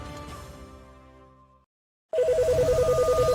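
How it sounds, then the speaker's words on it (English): A telephone ring effect starts abruptly after a fading musical passage and a brief silence, a loud, steady warbling pulse repeating rapidly. "the NASA hotline is ringing off the hook"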